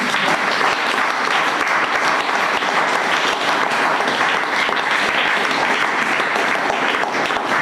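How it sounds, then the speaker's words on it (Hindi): A church congregation applauds together, a dense, loud, sustained wash of clapping that holds steady throughout. "क्या आप परमेश्वर की महिमा के लिए ताली बजा सकते हैं?"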